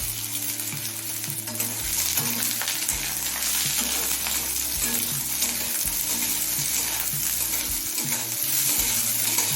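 Potato and onion frying in a pan, a steady, dense crackling sizzle with faint stirring, close and constant over soft background music.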